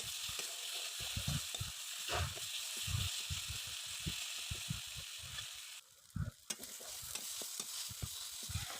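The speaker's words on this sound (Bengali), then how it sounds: "এভাবে নাড়াচাড়া করে আস্তে আস্তে ভেজে আমি ভর্তা তৈরি করে নেব" Coriander leaf paste being stirred and fried in a kadai, with repeated scraping strokes of a spatula over a continuous soft sizzle, close and alone.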